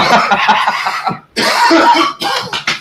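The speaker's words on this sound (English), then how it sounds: "I gotta quit coughing, yo." Two harsh bursts of coughing, close and loud, separated by a brief pause, with a short rough cough trailing at the end.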